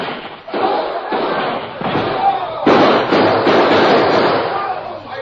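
Rapid bursts of gunfire crackle and thud one after another, loud and close, mixed with shouting voices in a chaotic exchange between outlaw cowboys and marksmen in a 1944 Lone Ranger radio western drama.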